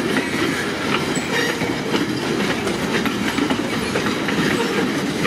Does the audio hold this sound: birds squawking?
no